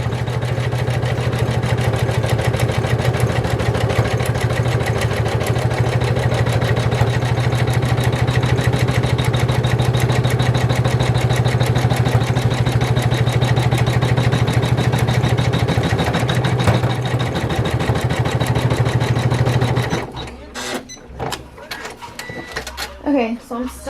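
A household, non-industrial sewing machine runs steadily for about twenty seconds, stitching through a thick bag with a loud, even mechanical whir and hum, then stops abruptly, leaving sparse clicks and handling sounds.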